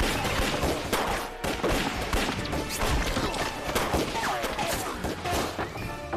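A battle scene from a Vietnamese war film, with a dense volley of rifle and machine-gun fire crackling continuously at close range, mixed with crashes and impacts, and shouted voices breaking in over the shooting.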